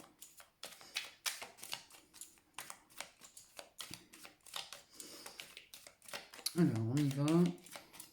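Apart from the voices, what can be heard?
tarot cards being shuffled and cut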